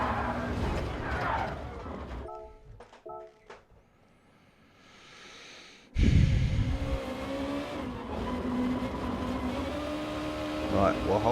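A Honda NSX Super GT race car lapping the Nürburgring gives a steady engine drone under a driver's commentary, dipping to near quiet for a moment before surging back loud and holding strong.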